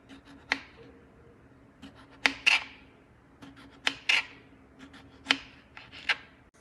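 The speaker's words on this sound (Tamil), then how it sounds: "இப்படி ரவுண்ட் ரவுண்டாக கட் பண்ணிக்குவோம்." A knife slicing potatoes into rounds on a cutting board, with five or six crisp, separate cuts spaced about a second apart, close and fairly quiet.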